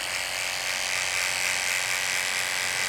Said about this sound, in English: just go ahead and grab your trimmers